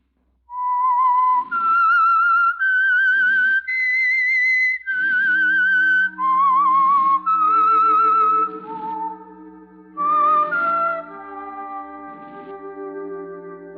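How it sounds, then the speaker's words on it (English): A clear whistled melody of sustained notes from an old-time radio mystery opening, rising and falling with a slight echo, followed by a low sustained musical chord underneath as it ends. "That whistle is your signal"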